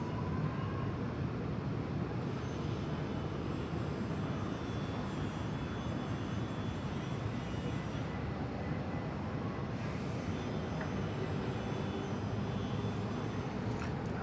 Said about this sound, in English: you can hear our Aeroflot 777 starting up, bound for Vladivostok